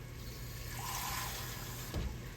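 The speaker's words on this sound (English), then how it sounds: "now we're gonna put about a cup of water in here" About a cup of water pours into a cooking pot for an old-fashioned comfort meal, a steady close splash and trickle lasting a couple of seconds with a brief heavier gush near the end.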